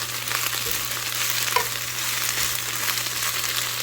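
Spinach sizzles in a hot frying pan, a steady close crackle and hiss with occasional stirring scrapes, heard alone without voices.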